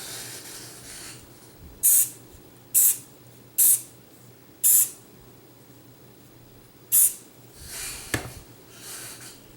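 Short sharp hissing bursts of CA glue activator spray on a handmade pen, five quick spritzes and a softer one, close and alone.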